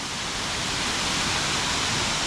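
A dense, constant roar of rushing water fills the clip, loud and unbroken, like a waterfall heard up close.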